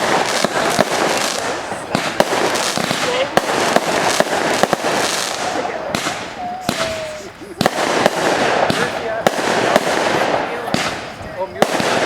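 Fireworks at a 2017 Canada Day celebration in Windsor, a dense run of sharp booms and crackling bursts that keeps going, loud and close, with a brief whistling streak partway through and people's voices faintly underneath.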